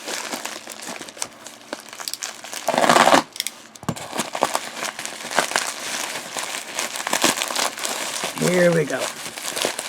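Paper wrapping crinkles and tears as a fountain pen package is unwrapped, with bursts of loud crumpling up close and someone talking over the rustling.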